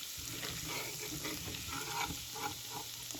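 Garlic sautéing in butter in a pan, a soft, continuous sizzle with a few quiet stirring scrapes, close and alone without talk.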